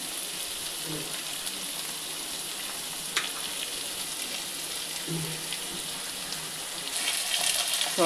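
Chilli sauces are added and cooking in a pan for chilli baby corn, giving a steady, close hiss of sizzling with a few faint clinks and a louder surge of frying near the end.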